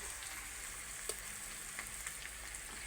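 Food frying in a pot on a wood-fired stove while meat is cooked, a steady soft hiss with small crackles and pops throughout, quiet and close with no talk.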